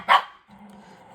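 A dog gives a sharp bark, close and loud, followed by a low rumbling growl that continues quietly for a moment.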